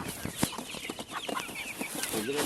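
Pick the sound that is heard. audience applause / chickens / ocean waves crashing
chickens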